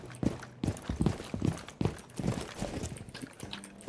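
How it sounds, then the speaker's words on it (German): Running footsteps in Rainbow Six Siege, a rapid series of thudding steps at a steady near rhythm, with game noise underneath. "Ich höre bei B noch jemand rennen."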